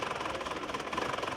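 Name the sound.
car engine running rough, possible fuel pump or filter fault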